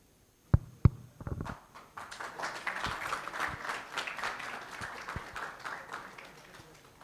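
At a product leaders conference in India, two sharp handling knocks come first, then an audience breaks into applause for a speaker that swells quickly and holds steady, moderately loud, with a few louder claps standing out.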